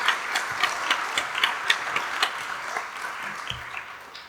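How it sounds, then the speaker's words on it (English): Audience applause at a Los Angeles event for the Standing Together co-directors, a dense patter of hand claps with some sharper individual claps standing out, moderately loud and steady throughout. "So a huge round of applause."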